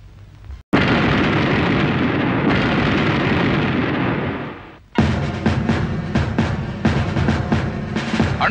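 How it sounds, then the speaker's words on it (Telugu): A petrol bomb blows up in a Telugu comedy film scene: a sudden loud blast swells into a sustained roar that fades, then a second burst follows with crackling, rumbling debris. "ఎక్కడో గల్ఫ్ కంట్రీలో పేలవలసిన బాంబు మన గోదావరి జిల్లాలో పేలటం ఆశ్చర్యంగా ఉంది"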